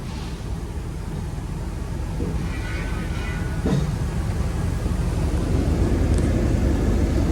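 A 1975 Buick LeSabre being driven, its engine and road rumble forming a steady low drone that builds slightly over time, heard from inside with faint rattles and no talking.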